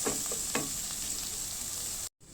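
Onions sautéing in Star margarine in a pan, a close steady sizzle with a few stirring scrapes early on, ending in a sudden brief cut to silence.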